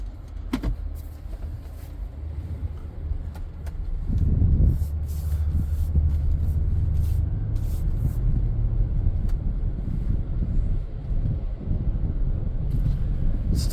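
Toyota Land Cruiser 200 Series engine rumbling steadily as the SUV reverses and then pulls away, a low continuous drone rising in strength partway through with faint clicks and cabin noises; no one talks.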